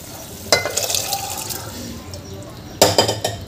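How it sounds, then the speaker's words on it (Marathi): Cooked black chickpeas tipped into a simmering gravy, two short wet splashy clatters a couple of seconds apart, close and moderately loud. "आता यामध्ये आपण शिजवून घेतलेले चणे घालून घ्यायचे आहे"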